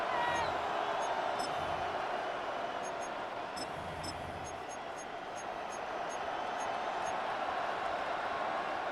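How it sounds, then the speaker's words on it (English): A football crowd roars in a dense, steady wash of cheering that swells slightly and then eases, with whistle-like chirps cutting through. "This crowd turning up the decibel level."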